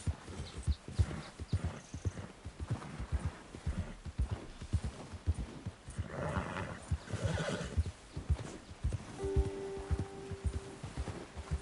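Horse in the Red Dead Redemption 2 video game, hooves clip-clopping in a steady walking rhythm with a whinny partway through, close and clear with no talk.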